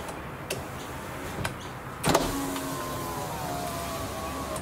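The power window motor of a 2012 Isuzu D-Max whirs steadily after a couple of soft clicks and a thump near the start. It is close and moderately quiet, with no one talking over it.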